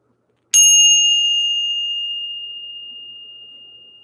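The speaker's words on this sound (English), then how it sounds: "So let's go ahead and ring the bell." A single bell is struck once, ringing out clear and bright with a sharp attack and a long, slowly fading sustain in an otherwise silent room.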